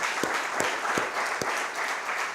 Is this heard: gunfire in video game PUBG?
no